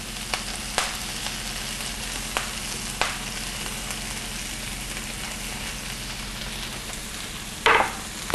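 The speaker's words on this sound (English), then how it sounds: "I'm going to transfer the chopped beet greens into the olive oil" Chopped beet greens frying in olive oil in a pan make a steady, close sizzle with a few sharp clicks and a brief louder crackling burst near the end.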